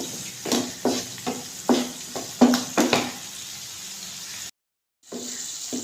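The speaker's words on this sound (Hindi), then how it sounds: "इसको हम अच्छे से फ्राई कर लेते हैं ताकि हरी मिर्च हमारी नरम हो जाए" Green chillies with spices fry in a pan, a close steady sizzle broken by a regular series of scraping stirs, then a sudden brief cut to silence before the sizzling returns.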